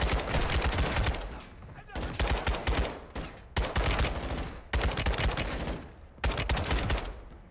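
Bursts of RPK machine gun fire in the Call of Duty: Modern Warfare II campaign, several sustained volleys separated by short pauses, loud and close.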